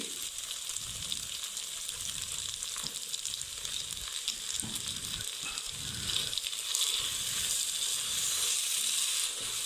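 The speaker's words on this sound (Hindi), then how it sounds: "अब इसमें हम थोड़ा थोड़ा करके दूध शामिल करेंगे।" Milk poured a little at a time into tender chicken cooking in a pan gives a steady sizzling hiss with soft stirring scrapes, rising somewhat louder near the end, with no voices.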